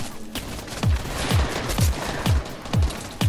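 Repeated gunshots ring out in a Fortnite match, about six sharp booming shots spaced roughly half a second apart, loud and close over faint background game sound.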